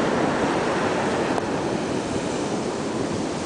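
Atlantic Ocean surf breaking on the beach at Long Beach Island, New Jersey, a steady, loud wash of waves with constant wind rumble across the microphone and no voices.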